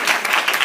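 Audience applause in an indoor gathering honoring T.S.K. sir, a short, loud burst of many hands clapping together with no voices over it.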